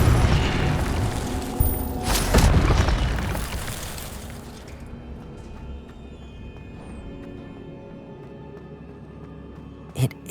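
Incendio fire spell cast in Hogwarts Legacy, a loud fiery burst with crackling boom that swells over a few seconds and then fades into a low ambient tail, with a sharp pop at the very end.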